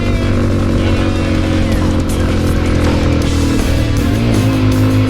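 A Junak RX 1 motorcycle carrying two riders climbs a hill in first gear, its engine droning loud and steady at high revs with a rough, buzzing tone that shifts slightly near the end.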